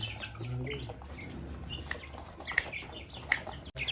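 Bursts of wing flapping and scuffling from chickens, with low clucks and a sharp squawk, fairly close.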